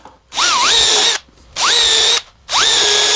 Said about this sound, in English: And then go through and using the infamous countersink,